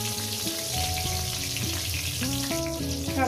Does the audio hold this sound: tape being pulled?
no